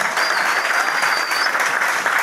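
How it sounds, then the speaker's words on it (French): Applause from a crowd at a memorial tribute to Michael, steady dense clapping throughout with a faint high whistle-like tone partway through. "S'il vous plaît, applaudissez tous pour Michael."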